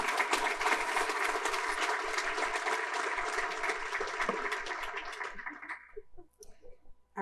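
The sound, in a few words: audience applause for event sponsors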